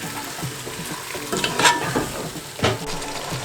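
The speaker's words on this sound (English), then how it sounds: "We just need oil enough to saute this gravy." Onion gravy for jerk chicken sautés in a little oil while a spoon stirs it, a close continuous sizzle punctuated by a couple of sharper scraping strokes against the pan.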